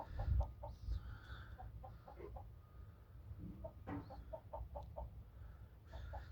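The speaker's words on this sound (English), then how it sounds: "They're my last two second generation hens." Hens being introduced to a new backyard flock cluck in short, repeated bursts, quiet and fairly close, with brief higher calls over a low background rumble.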